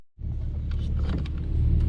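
A Nissan 300ZX driving through rush-hour traffic, a steady close engine and road rumble that rises quickly and holds without pause.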